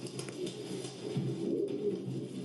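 Racing pigeons coo softly in a loft, low throaty murmuring calls repeating close by over quiet background noise, with no talk.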